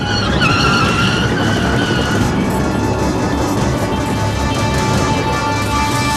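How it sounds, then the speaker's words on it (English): A car does burnouts and donuts on Swanston Street at Flinders in central Melbourne, its tyres squealing and skidding loudly and continuously with a roaring engine under busy city street noise. "there's a guy in the middle of Melbourne City doing burnouts"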